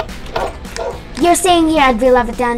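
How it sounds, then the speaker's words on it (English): A pet wolf-dog in the Minecraft video game lets out a few short, high whining barks and yips, close and fairly loud. A person talks over and around the sounds. "Oh, that's my dog."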